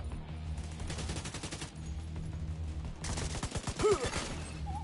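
Rapid bursts of automatic gunfire fired at an agent in The Division 2 video game, with sustained rattling volleys, a brief lull, then a heavier stretch of shots, all close and loud.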